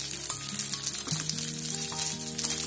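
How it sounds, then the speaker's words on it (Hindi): Vada balls frying in an oiled appa pan give a steady, close sizzle across the whole moment, with a few soft clicks and a low tonal hum beneath, no talking. "अब मैं अप्पा पैन में ऑयल लगा रही हूँ और इन सारे वड़ों को मैं इनके अंदर डाल दूंगी।"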